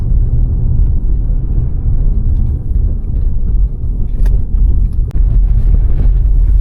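A Kia K5 taxi drives through city streets in Dnipro, giving a steady low rumble of road and engine noise from inside the cabin, loud and continuous with a few brief clicks.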